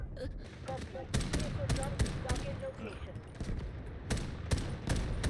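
Rapid bursts of gunfire in the shooter game Delta Force, sharp repeated shots cracking in irregular clusters close by, with a voice talking over the action.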